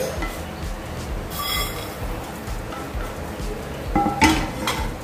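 Pieces of fried tofu go into a dish in a home kitchen, with several sharp metallic clinks and clatters of pots and utensils over faint background noise, the loudest knocks near the end.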